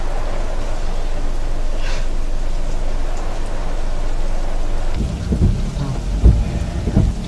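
Heavy rain pours in a dense, steady hiss, and deep rolling thunder rumbles beneath it in the later part. The storm sounds loud and continuous, with no voices.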